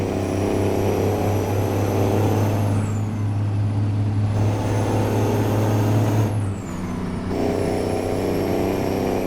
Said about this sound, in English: the old Kenworth needs the power